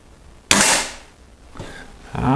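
Weihrauch HW 30 S break-barrel air rifle fired once: a sharp, loud crack with a short noisy tail, followed by softer mechanical rustles and clicks.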